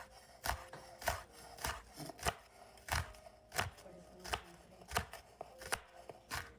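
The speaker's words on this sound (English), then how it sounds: "we are finally chopping everything into cubes" Knife chopping vegetables into cubes on a cutting board while preparing beer battered shrimp tacos: a steady series of sharp, close chops at an even rhythm, with no voices over them.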